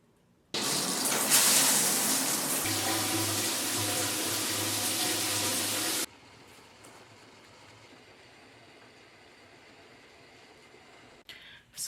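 Water running loud and steady from a tap during hair washing, a dense rushing spray for several seconds before it cuts off to a quieter room hum, with no speech.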